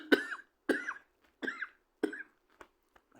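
A person coughs four times in an even rhythm, each cough sharp and close with a brief rasp, followed by a couple of faint clicks in a quiet room.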